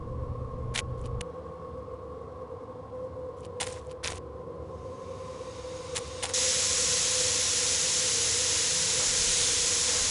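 Steam escaping in the video game Agatha Christie: The Orient Express. A steady hiss runs beneath a low mechanical hum with a few clicks, then a loud, sustained broadband rush of steam bursts out partway through and continues.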